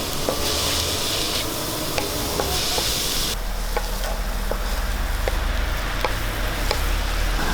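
Salted mixture stirred and frying in a pan for an egg curry, with a steady close sizzle and repeated scraping strokes of a spoon against the pan throughout.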